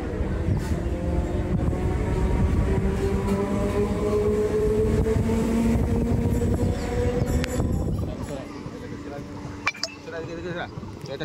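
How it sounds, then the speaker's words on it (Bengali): A train rolls into a station on the Howrah–Indore Shipra Express route, a loud close rumble with rail clanks and squealing tones that fade after several seconds into lighter clinks, with people talking nearby. "ট্রেনটা আসুক, চলো তারপর আরো দেখা"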